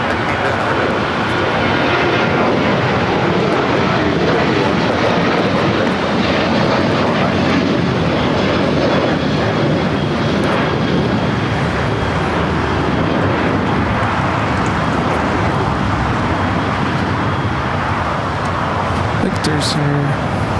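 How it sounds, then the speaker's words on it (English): A United Airlines Boeing 737-800 bound for Las Vegas takes off at Los Angeles airport, a loud, sustained broadband jet roar filling the whole stretch, with voices talking over it. "That flight heading to Vegas, 737-800, the United Airlines flight 2251."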